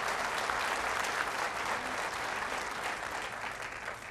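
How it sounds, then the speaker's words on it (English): Audience applause at a HeartChallenge charity event at a VFW post in Medford, New Jersey: a steady wash of clapping from a crowd, fairly distant and even, tapering slightly toward the end. "A big round of applause for all of their support for this day."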